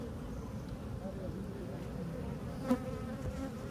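Honeybees buzzing around an apiary hive, a steady dense hum of many insects close by, continuous throughout with a brief louder pass near the end.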